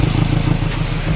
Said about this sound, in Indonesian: Suara knalpotnya bener-bener kenceng banget nih ya.